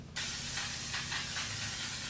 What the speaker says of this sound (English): Now we're gonna set with this L'Oreal setting spray.